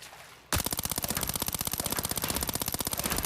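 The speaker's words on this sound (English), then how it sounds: "Now let's go and shoot on these dummies." A Vector submachine gun in Arena Breakout fires at training dummies, opening with a sudden loud burst and then pouring out a fast, steady stream of sharp shots that lasts to the end.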